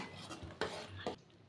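A spoon stirs bubbling jaggery syrup with cardamom pods in a pan for peanut chikki, giving two quick scraping clinks against the metal over a faint simmering hiss.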